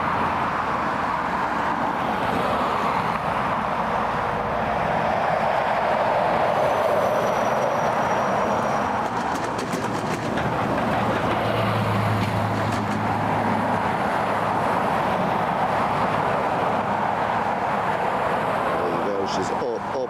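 A Boeing 737 takes off from Dublin Airport, its broad jet roar steady and loud from start to finish, with a deeper engine rumble swelling in the middle and a commentator's voice talking over it.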